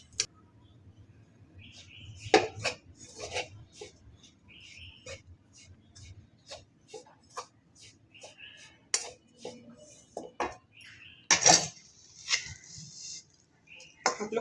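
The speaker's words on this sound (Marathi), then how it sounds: "आता मी हे खोबरं थोडंसं भाजून घेतेय." Dried coconut is roasted in a pan for methi ladoo, with intermittent clinks and scrapes of a spoon against the pan spread through the clip, while a quiet voice talks in the background.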